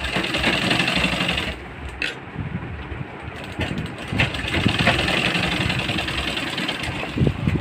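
A sewing machine stitches a long basting seam along a folded blouse waistline belt strip, its close mechanical whir and ratcheting clatter running in bursts with brief pauses.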